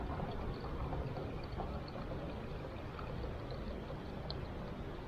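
Water pours through a backpacking filter into a container up to the 500 ml mark, a faint, continuous trickling stream heard alone outdoors.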